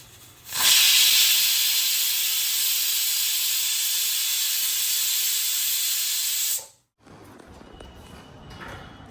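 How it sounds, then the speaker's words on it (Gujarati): Spices for a tempering hit hot oil in a home kitchen, setting off a loud, steady hissing sizzle that lasts about six seconds and then cuts off abruptly, leaving quieter kitchen background. "ફટાફટ વઘાર નાખું"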